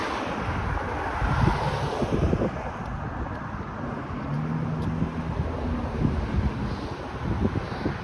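Wind blows outdoors along The Queensway near Mimico in Etobicoke: a constant buffeting rumble against the microphone, with faint traffic hum beneath it.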